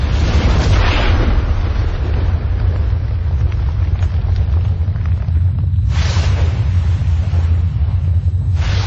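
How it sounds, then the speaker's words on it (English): Heavy, continuous rumbling roar with deep booming blasts, loud and dense throughout, like massive impacts and explosions in a sound-designed scene of asteroids crashing to Earth and smashing apart. "As the asteroids crashed to Earth, they smashed apart, and the water inside them escaped."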